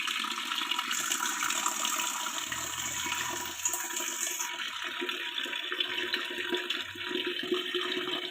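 Water runs steadily from a tap into a vessel at home, a continuous close rushing stream with no pauses.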